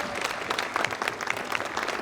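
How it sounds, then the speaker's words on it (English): Audience applauding for Sharon McGreevy at a Memorial Day remembrance ceremony, a steady, full wash of many hands clapping close and loud, with no voices over it. "Let's have a big round of applause for Sharon McGreevy and the work that she has done"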